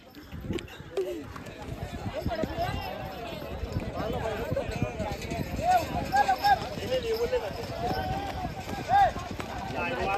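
Bulls' hooves pound along at a bullock cart race in Kundalaj, a rapid, dense drumming that runs nearly throughout beneath a steady crowd clamour and shouting voices.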